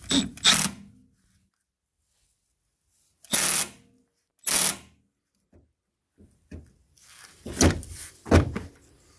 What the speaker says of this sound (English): I'm gonna use my impact wrench on a low setting.